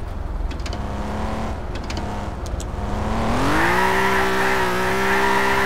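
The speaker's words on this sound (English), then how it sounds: "Start that vehicle up" A vehicle in Garry's Mod starts up: a low idle hum holds steady, then the engine revs and its pitch climbs and settles into a louder, sustained drone, with faint clicks early on.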